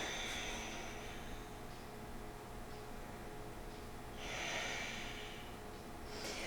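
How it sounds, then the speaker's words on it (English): Slow, airy breathing during a yoga session at a country club, a steady soft breath noise with a couple of fuller exhale swells, close and alone without talk. "Breathing here."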